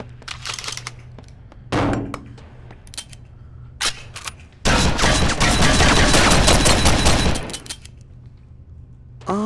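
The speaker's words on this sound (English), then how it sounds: "Oh, it's a shotgun." Shotgun blasts in the VR shooting game Gun Club VR: a few sharp reports early on, then a dense, loud burst of rapid firing in the middle, with clicks and handling noises between shots.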